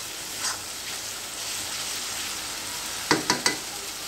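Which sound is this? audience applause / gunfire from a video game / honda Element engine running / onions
onions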